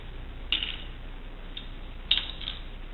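Dried food pieces, including sliced mushrooms, clicking on a dehydrator tray: two small, sharp clicks about 1.5 seconds apart, each with a faint rattling tail, plus a softer tick between them over a quiet hiss.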